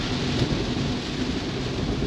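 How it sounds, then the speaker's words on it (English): Heavy rain pounds a Tesla as it drives on cold, wet roads at around 5 degrees, making a dense, steady roar of drumming water and road noise that never lets up, with no voices. "It's raining a bit."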